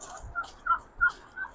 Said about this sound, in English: actual real chickens